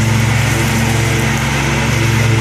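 A huge city-operated mower cuts seven-foot-tall grass in East Dayton, giving a steady, loud engine drone with a constant low hum throughout, no voices.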